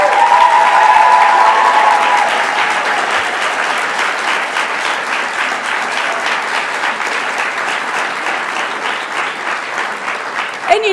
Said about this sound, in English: we wanted another round of applause for our award winners and all our amazing graduates